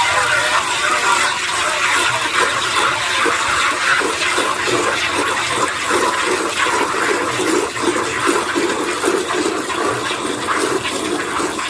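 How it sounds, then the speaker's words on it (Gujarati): A bucket fills with water in a steady, loud, continuous gushing stream that holds an even level for about twelve seconds without pause. "તો જુઓ આમાં થોડી જ વારમાં ભાઈ ડોલ ભરાઈ જશે."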